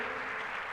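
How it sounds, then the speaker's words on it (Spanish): Congregational applause during a church service, a brief, steady wash of many hands clapping at even loudness, heard from a distance. "Démosle un fuerte aplauso a nuestro amado Dios"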